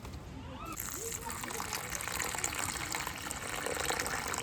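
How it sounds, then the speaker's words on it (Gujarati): Water gushes steadily into a cooking pot, a fairly faint, continuous pouring splash heard from nearby. "હોંડિયામાં પાણી નાખાઈ ગયું છે"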